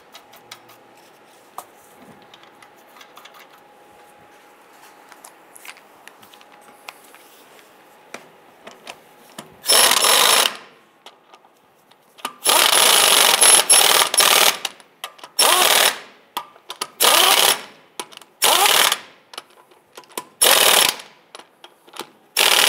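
An impact wrench runs on the lug nuts of a Ford Explorer rear wheel in loud, close bursts of rattling, separated by short pauses, after a quiet stretch at the start.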